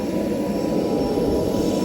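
Jet airliner engine at an airport before boarding, a steady, loud, broadband roar with a faint high whine that holds level and unbroken throughout.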